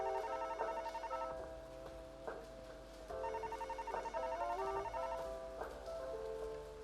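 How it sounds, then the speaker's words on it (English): Video game telephone ringing in repeated tonal bursts, steady and fairly quiet, with a rain-like patter underneath and no talking. "The phone is ringing."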